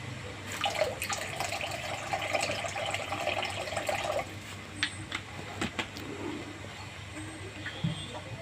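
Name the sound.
pouring water into the mango kasundi pan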